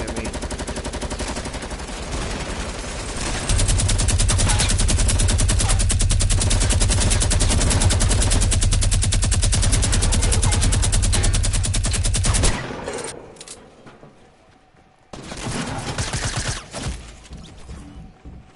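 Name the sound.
gunfire in Fortnite video game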